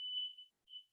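A household smoke detector gives two short, faint, high-pitched chirps in quick succession.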